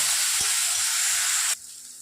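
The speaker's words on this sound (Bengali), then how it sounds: "এবারে আমি মশলাটাকে একটু ভালো করে কষে নেব।" Chili powder spice mix frying in hot oil for a singara filling, giving a loud, steady sizzle that drops abruptly near the end, close up with no talking.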